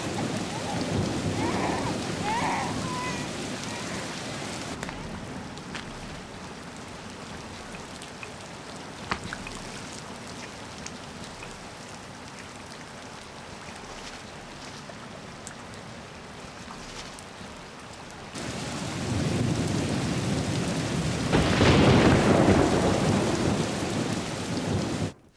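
Thunder rolls over steady heavy rain in a mountain lake setting, a loud downpour for the first five seconds, softer rain through the middle, then a strong rumbling thunderclap swelling near the end.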